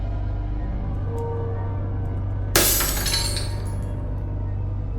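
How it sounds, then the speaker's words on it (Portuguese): A glass laundry-room window shatters suddenly in a loud crash midway, with fragments tinkling and fading over the next second against a steady low hum and no speech. "O som do vidro da lavanderia explodindo ecoou pela casa."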